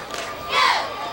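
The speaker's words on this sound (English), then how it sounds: "Cascia Hall's fans have plenty to cheer about." Fans at a Cascia Hall high school game cheer and shout in a brief swell that peaks midway, a lively crowd roar with voices blending together.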